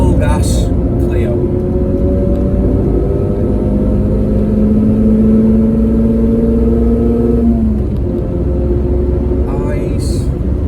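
A Renault Clio rally car engine roars steadily at full throttle and high revs, rising in pitch then dropping as it shifts, with a voice speaking briefly over it.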